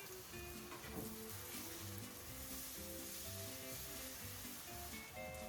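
Water hits a hot pan while muhlama, a cornmeal, butter and cheese dish, cooks, raising a continuous close sizzle and crackle that stays even throughout, with no talking.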